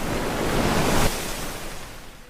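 Sea waves crash nearby with a broad roar that swells to a peak, then drops into a softer hiss as the water pulls back, with wind noise around it.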